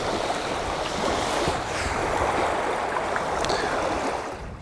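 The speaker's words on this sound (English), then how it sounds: "just listen to the waves and watch the waves crashing on this little beach here." Small waves lap steadily on the little beach of Llyn Idwal, a mountain lake in Snowdonia, a continuous close wash of water with soft breeze and no voices.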